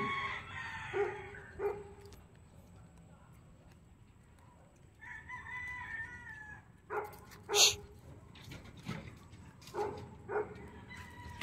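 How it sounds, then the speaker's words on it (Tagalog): A cat gives several plaintive meows and yowls at moderate distance outdoors in the Philippines, interspersed with an angry dog's calls and faint background noise. "Pusa yan, pusa."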